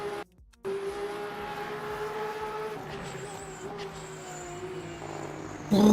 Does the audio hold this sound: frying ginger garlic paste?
no